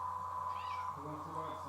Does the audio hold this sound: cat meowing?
yes